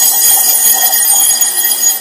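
A shrill, high-pitched battery-powered buzzer running on an alkaline C battery drones steadily and loudly, fluttering slightly before trailing off.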